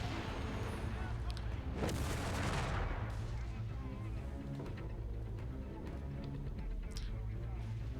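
Heavy 4.2-inch mortar artillery explosions in Company of Heroes 3, a 2v2 match with British and Indian artillery forces, booming loudly and continuously over a dense battlefield din with broad bursts, while a voice talks over it.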